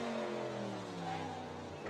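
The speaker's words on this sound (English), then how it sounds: "the car revving up and racing" A sampled car engine revving and racing, a loud continuous roar with rising and falling harmonic tones and no pauses, heard as a short track sample.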